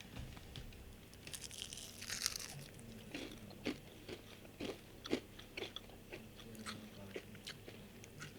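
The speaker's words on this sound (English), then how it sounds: "or hear me eat, hear me chew." Crunchy bites and chewing on chicken wings, with repeated crisp cracks and snaps at an uneven pace, close to the microphone.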